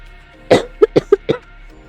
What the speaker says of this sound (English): Mayhaps I will simply cough until I die.